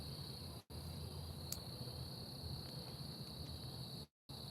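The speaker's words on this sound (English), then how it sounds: "other than the grasshoppers and crickets and all that stuff, doing what they do." Crickets and grasshoppers chirp outdoors in a steady, high, continuous trill, faint and unbroken apart from two brief dropouts, with no one talking.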